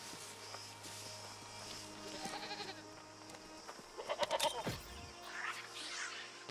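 A sheep bleats in the video game New World, with a few short bleats clustered near the middle and end over steady background game ambience and faint footsteps.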